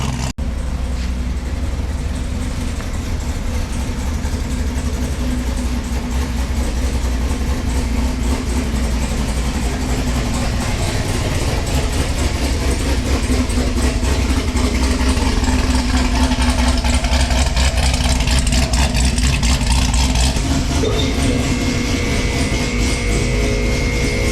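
A roughly assembled motor engine idles continuously, a loud, steady low rumble with a dense mechanical rattle that holds unchanged throughout, close by and without voices.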